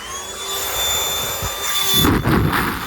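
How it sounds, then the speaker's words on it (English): A small electric air pump inflating a Tesla mattress inside a 2026 Tesla Model Y Standard in freezing winter conditions gives a steady, loud whine with a high tonal hum. Rustling and handling noises come in near the end. "Luckily, it does come with a pump, so we can pump this up."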